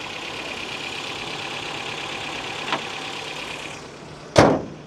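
A 1987 first-generation Toyota 4Runner engine idles steadily at moderate loudness, with a brief tap near the middle and a sharper louder clack toward the end.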